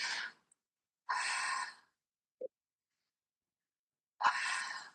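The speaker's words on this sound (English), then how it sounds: "Breath in, breath out." Slow, deep breaths during a guided body relaxation exercise, each long airy exhale or inhale separated by quiet gaps, close and soft, with no talking.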